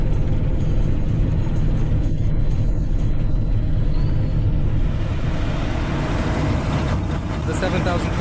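A Case IH Magnum 7220 Pro tractor with a repaired powershift rolls slowly on a test drive, a steady deep engine rumble and drivetrain drone filling the whole stretch, close and loud.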